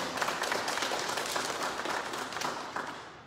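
Crowd applause at a ceremony handing over an equipped Type II ambulance, a dense steady clatter of many clapping hands that carries on throughout and eases slightly toward the end.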